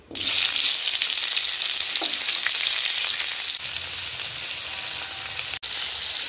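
Star fruit pieces fry in hot oil seasoned with five-spice, giving a steady, loud, dense sizzle that runs unbroken for several seconds with a brief clink near the end and no talking.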